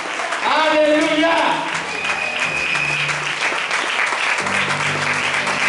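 A church congregation applauding during a service, loud sustained clapping, with singing over it at the start and voices continuing beneath the applause.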